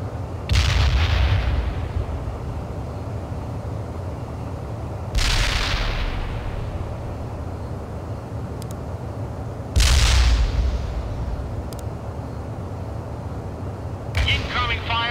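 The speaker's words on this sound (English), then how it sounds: "Incoming fire, watch out." Artillery in the World in Conflict game: three heavy booms land about five seconds apart with rumbling low tails, and a fourth begins at the end, over continuous battle ambience and radio-style unit chatter.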